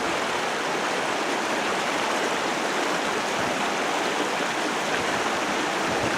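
Steady, dense roar of the Potato River waterfall pouring between large rocks, a continuous broadband rush that stays constant and close throughout with no voices.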